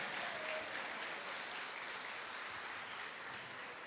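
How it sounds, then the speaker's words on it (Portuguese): A congregation at an evangelical church service claps for Jesus, producing a dense, even wash of applause that holds steady throughout without any voices breaking through. "Uma salva de palmas para Jesus de Nazaré."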